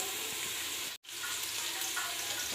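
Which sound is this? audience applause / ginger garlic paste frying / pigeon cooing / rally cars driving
ginger garlic paste frying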